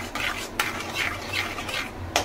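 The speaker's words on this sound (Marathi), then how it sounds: "बटरमध्ये टाकूया आपण थोडीशी पाव चम्मच हळद, पाव चम्मच लाल मिरची पावडर आणि चवीनुसार थोडंसं मीठ। हे आपण सगळं मिक्स करून घेऊ।" Turmeric, red chilli powder and salt being stirred into butter in a pan for butter paneer masala, a spoon scraping and clinking against the metal in a steady rhythm, close and moderately loud with no talking.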